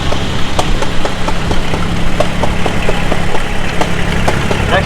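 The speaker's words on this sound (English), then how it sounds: "a cute little H John Deere" A small John Deere H tractor idles at a steady, close, loud pace, its engine popping in an even rhythmic beat under a rumbling drone at a tractor show.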